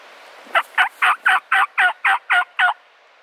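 Wild turkeys gobbling on a morning hunt: nine rapid, evenly spaced throaty gobble notes in a single rolling burst, loud and fairly close, with no talk.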